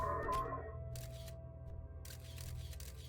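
Shutter opening in the video game Outer Wilds: a short mechanical clicking and whirring at the start, followed by a few soft clattering bursts over a low steady hum, no voices.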